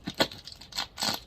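Short scraping, crinkling bursts of a blade cutting into a cardboard shipping box holding an axe, close and brief, with no voices.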